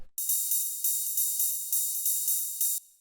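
A crisp electronic ride cymbal in a dark techno track plays a steady repeating pattern, bright and shimmering, alone with no other instruments, cutting off at the end.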